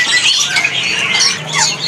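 White-rumped shamas (murai trotol) call loudly and close in a rapid stream of bright, warbling squawks and whistles, one phrase tumbling into the next with no pause.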